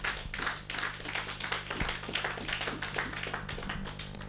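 A church congregation clapping in a steady rhythm, many hands beating together in repeated, even claps over a low background hum.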